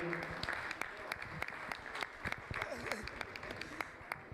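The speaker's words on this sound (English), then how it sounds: "Please, clap for them in their school uniform." An audience of trainees claps for a school drama team in their uniforms, a quiet patter of many hands with sharper individual claps standing out, and faint voices underneath.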